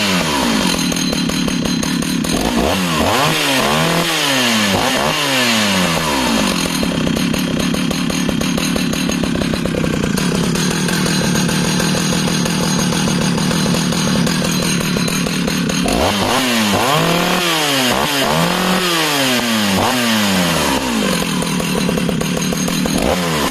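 Jonsered 820 Professional 81cc two-stroke chainsaw, loud and close, revs sharply to full throttle and drops back to a steady idle, repeating the rise and fall twice with no talk.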